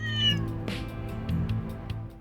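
A cat meows in Trails Through Daybreak II: a single clear, fairly loud meow near the start, then quieter rustling and small game sounds over a low steady background hum.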